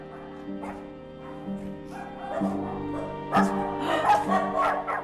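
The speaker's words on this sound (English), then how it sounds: "These boxes are filled with dogs." Several dogs yip, bark and whimper close by inside a large barn, puppies and pregnant dogs in boxes, high whining cries overlapping with sharper barks in a busy indoor space.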